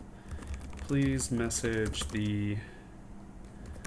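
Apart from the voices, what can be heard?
typing on a computer keyboard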